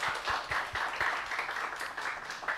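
A youth worship congregation claps for the praise team: a dense, even patter of many hands, close and moderately loud, lasting a few seconds with no talking.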